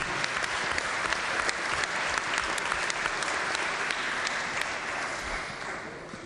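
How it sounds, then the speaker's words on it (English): Legislators in the West Virginia Legislature chamber give visiting students and their teacher a warm round of applause, with dense, steady clapping filling the room and tapering slightly at the end. "Please give them a warm round of applause."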